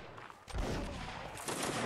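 Musket volleys from skirmishers in a video game: a burst of overlapping, crackling shots erupts after a quiet start and continues in a dense, moderately distant rattle.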